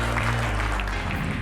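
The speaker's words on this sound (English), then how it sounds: "Give yourself a round of applause" Young people and staff at a youth provision gathering in Blacon giving themselves a round of applause, a dense, fairly loud clapping wash with low rumbling underneath, brief and continuous.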